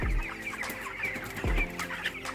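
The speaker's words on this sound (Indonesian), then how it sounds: "kita akan lihat kondisi ayam saya pada saat ini, yang saat ini telah berumur 22 hari" Broiler chickens about 22 days old cluck steadily in a poultry house, a dense flock chattering close by with a couple of louder low bursts standing out.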